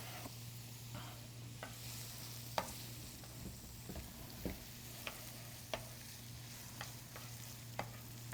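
Onions and peppers sauté in a hot pan for a southwest tofu scramble: soft, steady sizzling with occasional sharp clicks and taps of a utensil against the pan.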